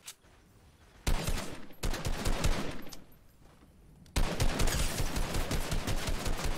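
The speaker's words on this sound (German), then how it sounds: "Krass, ich habe doch nur ein bisschen irgendwo geschossen." Rapid bursts of gunfire in a Fortnite-style shooter game, a short volley followed by a longer sustained burst, a pause, then another loud rapid stream of shots.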